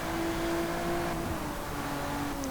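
Lotus Evora GT430 engine in Forza Motorsport, a steady sustained drone with a held tone that eases slightly in pitch toward the end, constant and fairly loud with no voices.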